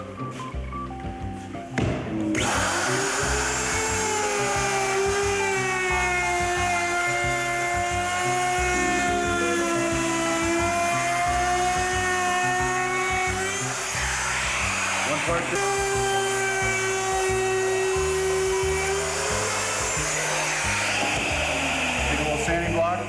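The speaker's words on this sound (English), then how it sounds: "we're actually going to cut a nose rib right here on the nose rib template" A power tool cuts an aircraft nose rib on a nose rib template in a Vimy aircraft build, producing a loud, continuous high-pitched whine that holds steady for about twenty seconds with slight shifts in pitch.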